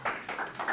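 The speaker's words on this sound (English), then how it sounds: "He gets a round of applause?" Brief applause from attendees at a city council meeting, a short burst of several hands clapping in an indoor chamber, moderately loud with uneven rhythm.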